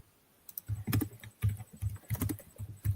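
Heavy, forceful typing on a computer keyboard, irregular bursts of sharp, close key clacks with brief pauses between clusters.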